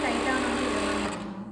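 A Musee M1 power sewing machine runs steadily at an even speed, a dense continuous whir that holds close and loud throughout, easing slightly toward the end.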